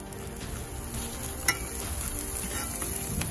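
Garlic sizzles and fries in a hot cast iron skillet on a Lodge Sportsman's grill, a steady close hiss with light stirring clinks throughout and one brief sharp tap midway.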